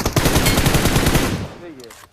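Rapid automatic gunfire in the mobile shooter BGMI, a dense loud burst of shots for about a second and a half that cuts off, followed by a faint tail and a single sharp report at the end.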